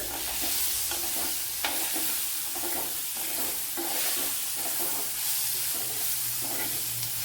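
Chopped tomato sautes into the onion base of a Kerala tapioca masala. A steady sizzle runs under repeated spoon strokes scraping the pan at close range, with no speech.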